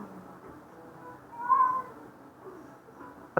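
A cat gives a single clear meow midway through, fairly close, over a low background murmur, from a compilation of cats being told no.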